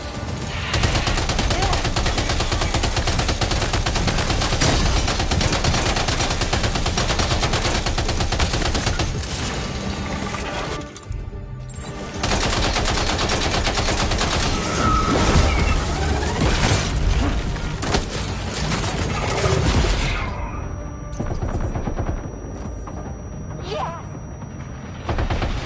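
Sustained heavy gunfire in the video game Death Stranding 2, dense rapid bursts and booms filling most of the stretch, briefly dropping off before resuming, then thinning to scattered shots near the end, loud and close.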